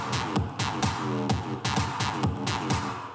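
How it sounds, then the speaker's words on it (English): Electronic dance track run through a WOW low-pass filter plugin, steady pulsing kicks with filtered, resonant mid-range synths and muffled highs, loud and continuous with no talking. "so with the wow filter on, it sounds like this."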